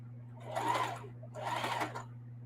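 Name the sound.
sewing machine stitching zigzag on camo tote bag strap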